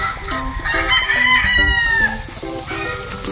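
Breeder chickens in a brooder, roosters crowing repeatedly over steady clucking from the flock, close and loud, with no talk.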